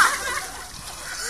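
Ice water splashes down over a person during an ice bucket challenge, a short loud sloshing splatter heard close up with voices around it.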